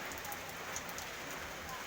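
Steady, soft rain falls near a hut outdoors, a quiet continuous hiss with faint scattered drops and no voices.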